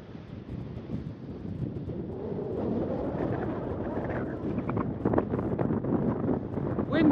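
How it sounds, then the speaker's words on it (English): Strong wind blows across the rim of Wolfe Creek crater, a loud continuous buffeting rush against the microphone that swells and gusts throughout, with a faint voice briefly audible near the end. "The wind is absolutely whistling up here."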